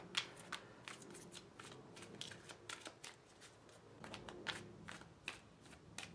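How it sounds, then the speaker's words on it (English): Quiet, close-up tarot card shuffling with repeated soft riffles and slaps at an irregular pace, with no talking. "I've been shuffling the cards, so I'm not going to shuffle them too much more"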